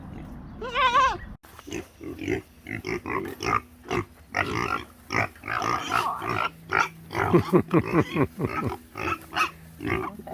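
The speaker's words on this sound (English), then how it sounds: "That is a pig." A pig on Frog Hollow Farm grunts repeatedly in a quick, rhythmic series of close, fairly loud snorts, with a brief voice at the start.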